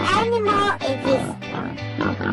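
A farm pig oinking and grunting in a quick series of short, close, fairly loud calls, with a steady musical backing underneath.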